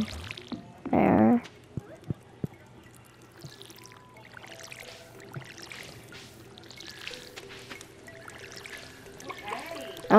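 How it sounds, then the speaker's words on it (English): A watering can pours onto crops in the farming video game Stardew Valley, a short splashing pour near the start followed by faint game effects and background music. "So we can just water our pumpkins."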